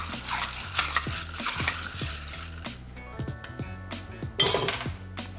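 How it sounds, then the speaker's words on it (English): Bar spoon churning a rum cocktail of crushed ice and mint in a glass, giving a busy run of clinks, scrapes and rattling ice close by with no talk. "I'm going to churn this drink around"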